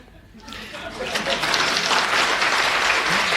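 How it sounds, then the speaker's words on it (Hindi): An audience at a Hindi-language poetry recital bursts into applause that swells quickly into loud, sustained clapping and continues to the end. "तालियों का महोत्सव होना चाहिए"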